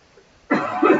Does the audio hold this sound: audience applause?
no